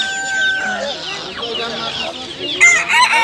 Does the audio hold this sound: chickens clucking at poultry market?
yes